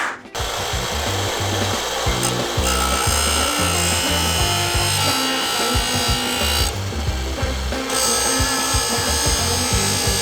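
A speargun shaft being sharpened, a continuous loud grinding and rasping of metal against an abrasive tool that runs steadily for about ten seconds with no talking.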